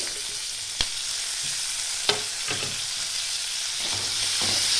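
Onion petals and tomatoes fry in a pan for chicken do pyaza, giving a steady close sizzle with a few sharp utensil clicks as the pieces are stirred. No one speaks.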